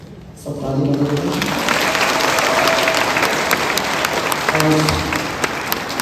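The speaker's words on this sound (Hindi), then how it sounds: "सब ताली बजाइए।" Applause breaks out after a brief quiet and continues steadily for several seconds at a wedding ceremony of an Apatani bride and Naga groom in Ziro. It is moderately loud, with a voice speaking over it.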